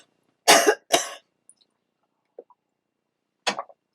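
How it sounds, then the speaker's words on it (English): Two harsh coughs in quick succession, close and loud, followed by silence and then a shorter, weaker cough near the end. "I have a cough coming up"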